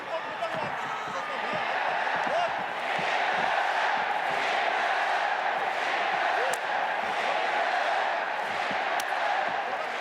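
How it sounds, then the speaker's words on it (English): A big crowd roars through an MMA bout at the Saitama Super Arena in Japan. The loud, steady roar carries sharp cheers and whoops from start to finish, with no break in the noise. "And a big roar inside the Saitama Super Arena."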